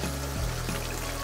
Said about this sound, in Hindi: 1/2 चम्मच इसे मैंने विनेगर डाला